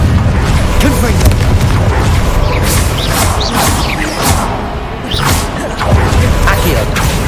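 Hogwarts Legacy combat sounds: summoning pulls, fire bursts and explosive blasts from cast spells boom and crash in quick succession, with whooshes and impacts overlapping. A voice calls out spell names throughout.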